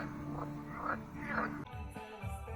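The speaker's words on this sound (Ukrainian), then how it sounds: "Жаби квакають." Frogs croak in repeated pulsing calls beside a lake at night during a fishing trip, sounding fairly close over a constant low background hum.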